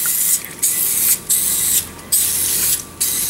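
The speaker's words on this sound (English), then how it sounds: "nonstick spray." Nonstick cooking spray greases a muffin pan in a home kitchen, four loud hissing bursts of aerosol, each about half a second long with brief pauses between, close to the microphone with no talking.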